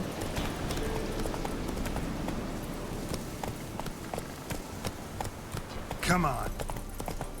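Roach the horse gallops in The Witcher 3, rapid clip-clop hoofbeats running steadily close by, with a short spoken urging near the end.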